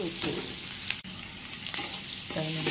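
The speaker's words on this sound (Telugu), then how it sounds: "ఇది రెడ్డిష్ కలర్ వచ్చే వరకు వేయించుకుని తర్వాత" Banana pieces frying in a pan with salt and turmeric, giving a steady, loud sizzle with brief stirring bursts throughout and no talking.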